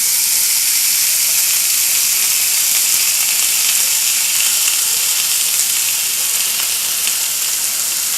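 Thinly cut steak strips frying in a pan after onions, a loud, steady sizzle and hiss that runs unbroken throughout, with no talking.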